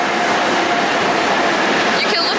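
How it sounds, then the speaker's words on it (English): A passing train heard on a trip in Belgium, a steady loud broadband rumble and hiss that fills the whole stretch without a break. "It's a train."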